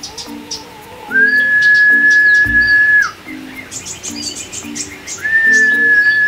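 Songbird chirping and singing near a nest of newly hatched chicks, with a long sustained whistle-like note and repeated short tweets and trills throughout, loud and close.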